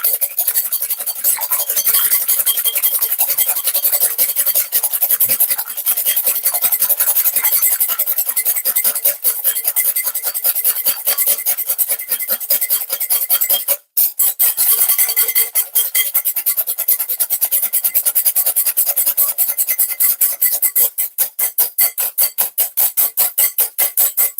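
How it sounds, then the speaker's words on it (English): An egg is whisked in a bowl for banana pancakes, with a rapid, steady, close rhythm of scraping strokes continuing throughout, briefly pausing once before resuming. "So with the egg, I'm going to whisk the egg."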